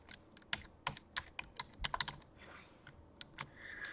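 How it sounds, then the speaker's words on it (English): Quick bursts of computer keyboard typing, close and fairly quiet, with irregular clicks clustered in the first two seconds and a few more keystrokes near the end, during a Java programming walkthrough; no one speaks. "and then we'll just type this in"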